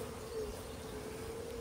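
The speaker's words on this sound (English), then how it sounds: "We have half a cup of bees." Honey bees crowded into a measuring cup during beekeeping, giving off a faint, steady buzzing hum with no voices.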